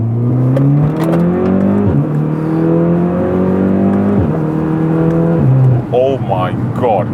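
A tuned Audi S3 on a test drive revs hard and accelerates, its loud engine note climbing repeatedly through several gear changes before easing off, with a few voices briefly audible near the end.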